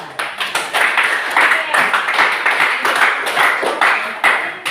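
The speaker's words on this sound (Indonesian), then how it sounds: "kita berikan aplaus untuk kelompok 2" A classroom group claps for the second student team during a presentation session, a loud and close burst of many hands in quick irregular rhythm lasting several seconds, with voices mixed in.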